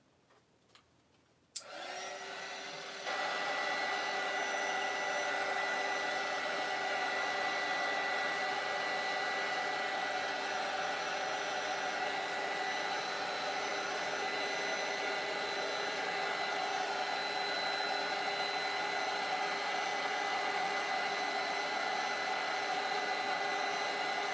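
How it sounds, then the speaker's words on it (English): A hair dryer switches on after a brief quiet moment and blows steadily and loudly, drying yellow paint on a painting, with a constant whirring roar for the rest of the time. "I'm just going to dry this so that I have a little bit more control."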